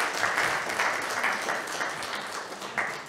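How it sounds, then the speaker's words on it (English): Church congregation at a Sunday sermon applauds a woman who just shared her story, a sustained dense roomful of clapping at moderate volume, even and continuous without speech. "Let's just give Chelsea a round of applause."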